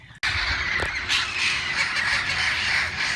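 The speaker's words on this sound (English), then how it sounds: "Mexican redheads. Amazon parrots." A flock of red-crowned Amazon parrots, Mexican redheads, calls loudly and continuously at night near a garden, with harsh overlapping squawks that start abruptly and fill the whole stretch.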